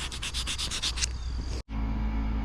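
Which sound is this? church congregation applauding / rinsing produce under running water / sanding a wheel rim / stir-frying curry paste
sanding a wheel rim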